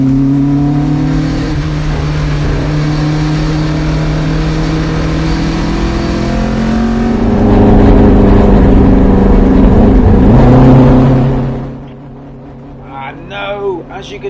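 A Marcos race car at Donnington runs down on power with a suspected fueling fault, its engine holding a steady droning note that swells briefly before cutting away to near quiet, with a few faint knocks afterward.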